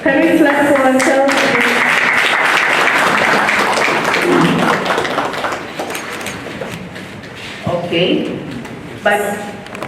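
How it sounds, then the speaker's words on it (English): An audience at a book launch on preventing and countering violent extremism claps together, a loud, dense burst of applause that fades after a few seconds, with voices speaking before and after it. "Can we clap for ourselves?"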